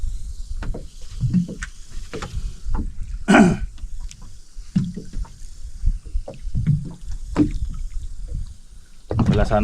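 Small fishing boat out on the sea on a tuna trip, with repeated knocking, creaking and splashing of the hull and paddle in an irregular rhythm, close and fairly loud, with no voices.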